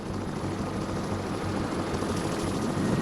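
A helicopter lifting off from a football field in Palma, Mozambique, a loud continuous rotor roar with steady thudding throughout, close and alone without talk.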